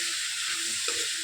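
Onions fry in oil in a pan for biryani, giving a steady bright sizzle with a brief scrape of stirring near the end.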